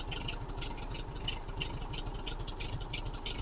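A 1950 VW Beetle with a non-stock exhaust idles, giving a rapid, steady low putter with a light rattle, fairly faint and continuous throughout the short stretch.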